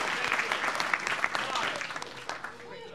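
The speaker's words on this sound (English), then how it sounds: "A round of applause for our fair king, Sir Graziano." A theatre audience applauds the king during a Shakespeare play, with a dense, steady wash of clapping that fills the whole stretch at moderate loudness.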